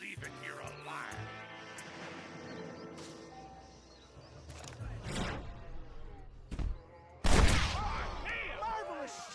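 A video game shootout with a few scattered gunshots and heavy thuds, the later blasts louder and closer, while voices speak over the action.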